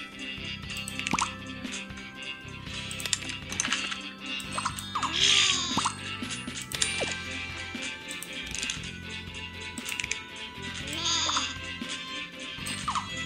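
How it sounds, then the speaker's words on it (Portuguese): Sheep bleating in the video game Scribblenauts Unlimited, short cartoonish bleats mixed with plopping and dripping sound effects over busy game music, fairly quiet throughout. "Pega uma ovelha aí."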